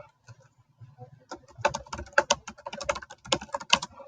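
Rapid, uneven clatter of keys on a computer keyboard, sparse at first and then a dense burst of close, crisp taps, with no voices.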